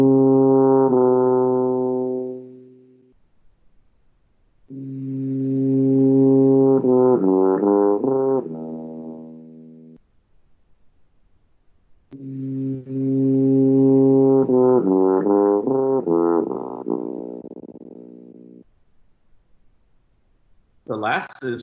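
A large low brass instrument, big enough to be carried on the player's back, sounds three long sustained notes separated by pauses, the later two with shifting pitches, loud and close with no talk.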